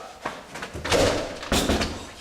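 A door being pushed open during a behind-the-scenes film shoot: a couple of heavy thumps and scraping swings close by, separated by brief pauses, with faint voices in the background.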